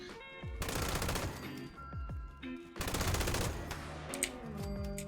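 A World War II MG42 light machine gun fires in Fallout 76, delivering two long, loud, rapid bursts of close gunfire with brief pauses and a short tail of shots, without talking.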